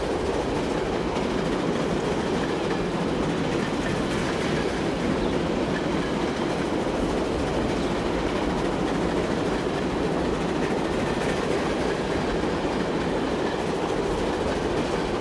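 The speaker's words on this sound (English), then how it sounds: "we would be stuck waiting for these trains to all go past" Trains passing in the Transport Fever 2 railway game: a continuous loud rolling roar of rail wagons with clattering wheels, unbroken and steady from start to finish.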